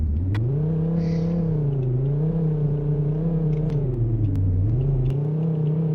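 A car's engine drones steadily in a Roblox video game, its pitch rising and falling gently as it cruises and revs, a continuous close hum with no voices over it.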